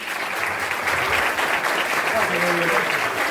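An audience claps loudly and steadily to welcome a guest onstage at a talent show event, a continuous dense wash of hands with faint voices underneath.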